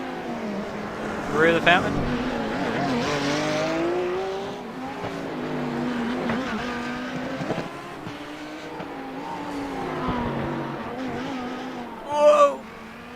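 GT3 race cars, a Lamborghini and a Porsche, racing through a street circuit at Long Beach in a sim racing game, engines droning and shifting pitch as they accelerate, with race commentary spoken over them.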